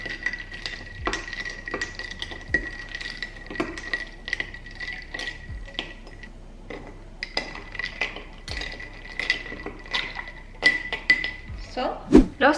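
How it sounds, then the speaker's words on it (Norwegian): A spoon stirs tea and milk for bubble tea in a glass, with repeated close clinks and taps against the glass in an irregular rhythm and a faint steady tone running underneath. "Så skal vi røre oppi her."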